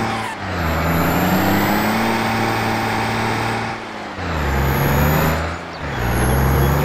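Powerful mower vehicle engine in the Farming Simulator 22 game, a steady loud drone with shifting tonal pitch and brief dips around four and six seconds.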